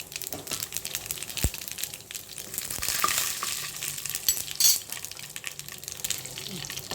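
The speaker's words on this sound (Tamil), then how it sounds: "எண்ணெயை காய வச்சு கடுகை போடுறோம். அதோடு சீரகம் போடுறோம்." Mustard seeds and cumin splutter in hot oil, with dense crackling pops and sizzle close by and a few sharper bursts, as tempering for a dosa meal.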